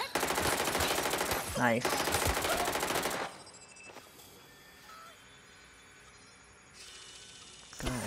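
Rapid automatic gunfire in the Watch Dogs: Legion video game rattles in loud bursts over the first few seconds, then gives way to quieter game ambience, a brief spoken word, and a final short burst at the end.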